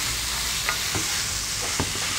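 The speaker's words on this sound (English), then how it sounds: "I just want to stir fry this" A prawn and pork filling is stir-fried in a pan: a loud, close sizzle with a few sharp spatula scrapes and clacks in quick succession.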